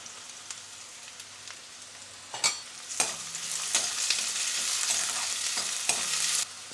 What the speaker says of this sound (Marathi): कांदा आपण छान गुलाबीसर रंगावर आपण परतून घेतला